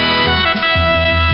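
CBS Radio network alert chirp: a loud electronic tone sequence with steady sustained pitches and a short break near the middle, shifting to a lower repeated tone pattern, alone with no talk.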